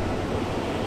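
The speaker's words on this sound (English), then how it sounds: "we made it to the next waterfall, and this is number 3" Waterfall at Whittier Falls along a brook walk in New England, a steady broadband rush of falling water heard close and continuous with no talking.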